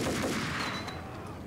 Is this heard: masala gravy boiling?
no